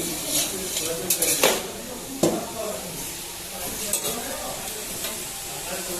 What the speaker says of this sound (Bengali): প্রথমে আমরা বাঁধাকপি রান্না করব। বাঁধাকপিটা আমরা অলরেডি বসিয়ে দিয়েছি